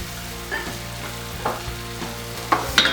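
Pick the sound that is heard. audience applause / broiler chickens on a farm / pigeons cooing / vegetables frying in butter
vegetables frying in butter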